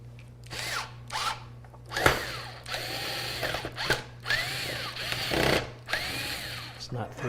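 A power driver drives screws into an Ncase M1 mini ITX computer case, several short whirring bursts with pauses between them, close up, over a steady background hum.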